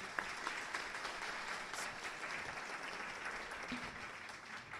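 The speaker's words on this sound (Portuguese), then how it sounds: "os aplausos da plateia também ao candidato" A studio audience at a 2014 federal deputy election debate applauds a candidate, a steady even patter of many hands clapping from a moderate distance that holds for the whole stretch without any talking.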